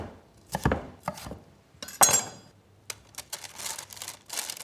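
A knife chops potatoes and peppers into thick cubes on a cutting board for a kleftiko dish, irregular bursts of firm thuds and crisp cuts, close and clear with no talk.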